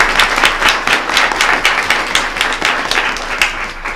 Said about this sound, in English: let me ask if all of us could please applaud the accomplishments of these students